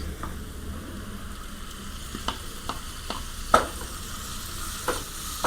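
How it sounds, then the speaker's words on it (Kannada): Tomato and paneer fry in a pan with a soft, steady sizzle, punctuated by several sharp clicks and scrapes of a spatula stirring. "ಇವಾಗ ಈ ಟೊಮೆಟೊ ಅಲ್ಲ ಸಾಫ್ಟ್ ಆಗೋ ತನಕ ನಾವು ಚೆನ್ನಾಗಿ ಹುರ್ಕೊಬೇಕು"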